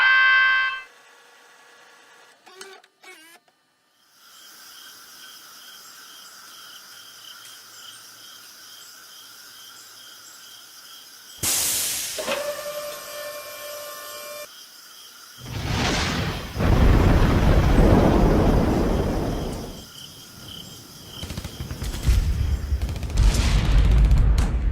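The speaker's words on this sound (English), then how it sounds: "The rocket was launched." An animated rocket launch in a countryballs cartoon: a sudden loud whoosh and roaring rumble build up, with crackling bursts and electronic effects, filling the scene after a quieter stretch.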